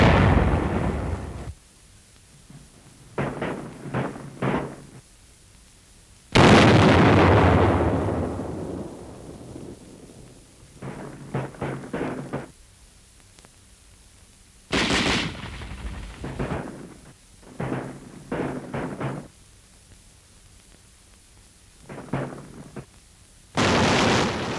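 World War II combat as Division tanks return fire on a German point of resistance in Paris, near the École Militaire: repeated loud bursts of gunfire and heavy blasts in clustered volleys separated by short lulls, with no talk.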